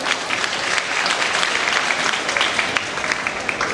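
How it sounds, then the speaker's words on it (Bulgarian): Audience applause at a mall event, a steady, moderately loud patter of many hands clapping with no voices over it. "Аплодисменти за нея."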